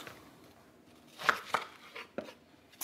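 A knife chops bacon into thick lardons on a board, with a few distinct sharp thuds spaced irregularly against a quiet background.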